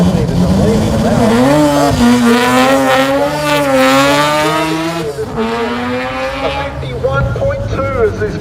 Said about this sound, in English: So now we move into historic touring cars Group NC 2 litres to 5 litres, and leading them out.